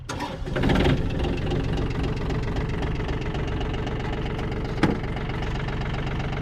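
A small Yanmar diesel mini tractor engine with automatic glow plugs cranks and catches, then settles into a steady, knocking idle close by, with one sharp clank partway through.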